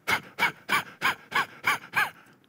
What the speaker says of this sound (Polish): wiesz jak się oddycha przed walką?